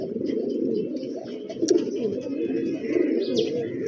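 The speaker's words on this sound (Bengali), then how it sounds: "যে নটা ডাকছে এটা হচ্ছে ছাপচিলা কবুতর আমার" Soft, low cooing of a Chap Chila pigeon repeats in a steady murmuring rhythm, close by, with a few faint chirps above it.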